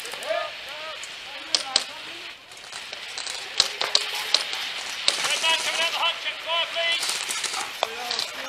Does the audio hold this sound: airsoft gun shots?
yes